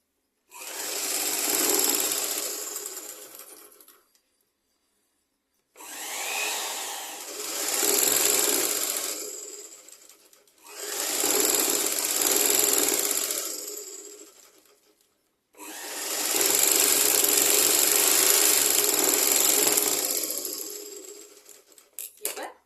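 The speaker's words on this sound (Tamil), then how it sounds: "இப்போ இன்னொரு தையல் போட்டுறேன்." A sewing machine stitches a long top in four separate runs of steady, rapid mechanical whirring, loud and close, with short silent pauses between runs.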